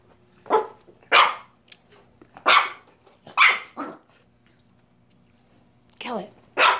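A dog barks repeatedly at a vacuum cleaner, with about six sharp, close barks spaced irregularly and separated by short quiet gaps.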